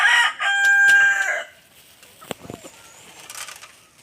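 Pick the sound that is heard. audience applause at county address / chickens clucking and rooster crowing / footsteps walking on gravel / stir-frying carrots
chickens clucking and rooster crowing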